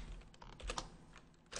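A computer keyboard clatters with a handful of quick, faint keystrokes in an uneven burst at close range.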